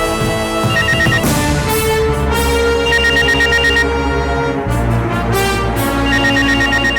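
A telephone rings in a home during a Tamil TV drama scene, a loud, continuous electronic ringtone melody that fills the whole stretch over a dense background score.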